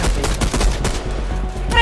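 Rapid bursts of gunfire in the Fortnite battle royale game, a dense fusillade of loud, close shots in quick succession throughout, with a brief pause before a final burst.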